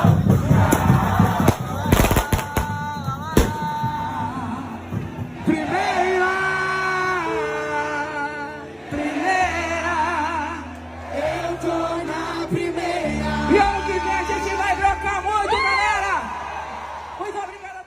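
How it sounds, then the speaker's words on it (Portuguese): Vitória football fans celebrate their Série B title win in Bahia: a dense crowd roars and chants continuously, with sharp bangs like firecrackers early on, whoops and cheering voices throughout. "Os torcedores estão celebrando muito essa conquista."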